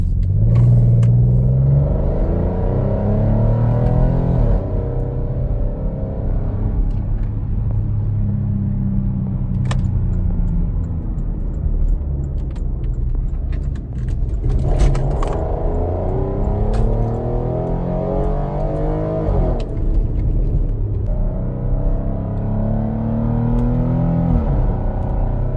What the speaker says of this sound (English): I'm just gonna make a quick U-turn.